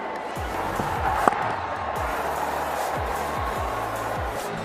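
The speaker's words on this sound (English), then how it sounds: "It's a big Sunday crowd here today." A large Sunday crowd fills a cricket ground during an India vs England T20 match, making a steady, broad roar of massed voices with a single sharp knock partway through.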